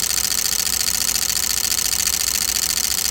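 A small Newman electric motor runs steadily, giving a continuous, fairly loud whirring hum with a fine buzzing texture and no change in pace, with no voices.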